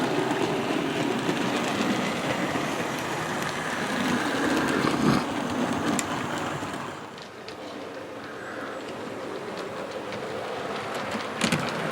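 A small DCC model train rumbles steadily along its track with a soft clickety-clack, the running noise easing slightly partway through with a few light clicks.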